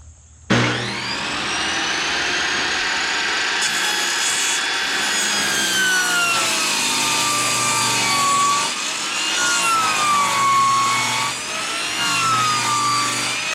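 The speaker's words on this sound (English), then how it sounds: "First thing I'm going to do is rip these boards down to 8¼ inches." A saw rips wooden siding boards down to width. It starts abruptly and holds a loud, continuous whine with a grinding bite through the wood for over twelve seconds, and the pitch sags and wavers as the cut loads.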